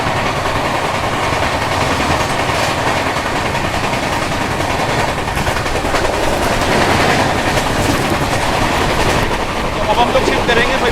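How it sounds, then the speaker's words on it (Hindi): The Rajdhani Express rolls along the tracks with a dense, continuous rumble and rattle, heard steadily from on board the train, and faint talk sits beneath the noise. "ट्रेन चल रही है हमारी एकदम बिफोर।"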